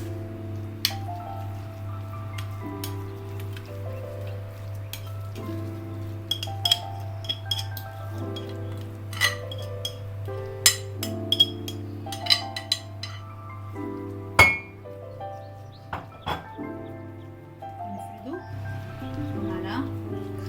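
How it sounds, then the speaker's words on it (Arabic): Basbousa batter goes into an oiled baking tray and gets spread, giving scattered light clinks and scrapes of utensils against the tray. A steady low hum runs underneath, and someone talks over much of it. "هنحط خليط البسبوسه كله في الصينيه بتاعتنا"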